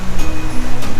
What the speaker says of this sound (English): Behind you, what you hear is the rushing water